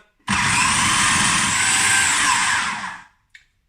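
A blender mixing butter into flour whirs loudly in one continuous pulse for almost three seconds, whining high and steady, then stops, followed by a brief faint clatter.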